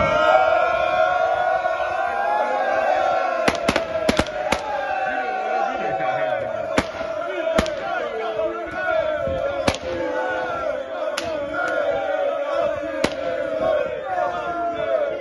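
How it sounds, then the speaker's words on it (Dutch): Cannons fired on a small platform at a market event, a series of sharp bangs spaced irregularly over a noisy crowd with voices throughout. "En op het bordesje nog wel even wat kanonnen afgeschoten."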